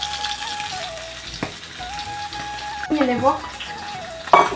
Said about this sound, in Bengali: আগে যে মাছগুলো দিয়েছিলাম ওগুলো ভাজা হয়ে গেছে তো আবার মাছ রয়েছে ওগুলো ভাজবো